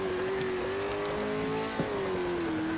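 Revving race car in PMR SPEC 2.0, its engine note sustained and loud, dipping and climbing as revs are managed, with a brief sharp blip near the end and no voices.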